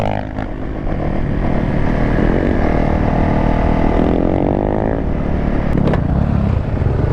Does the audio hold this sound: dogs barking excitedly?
no